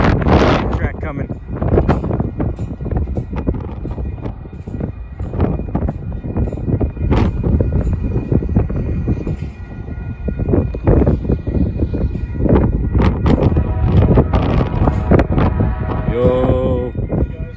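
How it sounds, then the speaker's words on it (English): Amtrak Sunset Limited passenger train arriving at Lordsburg, New Mexico in gusty wind, a steady loud roar of rumbling rail noise and wind buffeting the microphone, with a horn-like tone near the end and voices briefly heard. "Amtrak coming."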